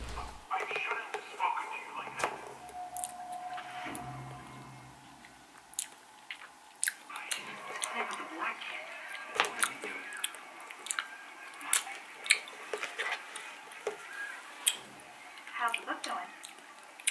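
Someone eating Häagen-Dazs green tea ice cream with a crispy snack, with soft, close bites and chewing spread through the stretch, mostly quiet with light rustles and murmured background sound.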